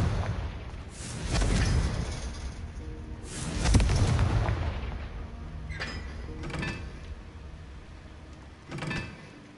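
Fiery Confringo spell blasts in the Hogwarts Legacy video game, several booming bursts with rumbling low-end impacts spaced a couple of seconds apart, the last one shorter and lighter.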